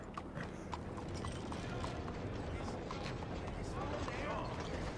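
Horse hooves clip-clop steadily in the Western video game Red Dead Redemption 2, a continuous close trotting rhythm over a dense outdoor background.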